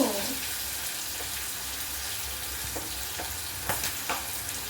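Onions, green chilies, ginger and curry leaves frying in hot oil, a loud continuous crackling sizzle close by with occasional spatters and stirring sounds.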